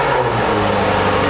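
A Jaguar F-Type SVR engine starts up loud and close during a restoration, firing into a rough, revving idle that holds steady with a throaty low rumble.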